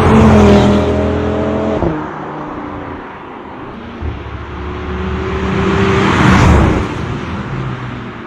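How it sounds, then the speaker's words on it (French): Audi RS3 five-cylinder engine roaring loudly and close up, its pitch falling as the car shifts, then revving and swelling again as it accelerates past, with no voices over it. "c'est bien entendu la sonorité du moteur 5 cylindres"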